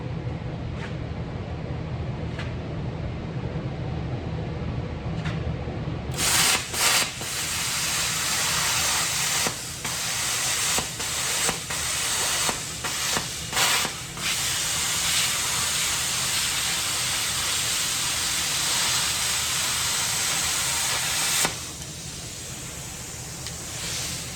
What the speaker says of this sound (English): let's give it a try and see how it does cutting through rust and paint and primer and grime